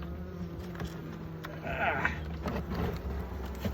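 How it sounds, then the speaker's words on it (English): Honey bees buzz around a Hive Hotel frame in summer, a low steady drone with a louder bee passing close midway, under faint handling noise. "And those bees collecting, adding all that honey down."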